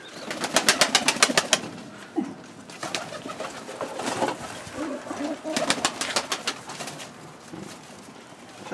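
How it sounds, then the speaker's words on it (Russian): A flock of pigeons in a village loft coos and calls loudly and close by, with rapid rhythmic bursts repeating through the stretch, and no talk over them. "Приехали на Шахово, Сергею Виннику, посмотреть голубей."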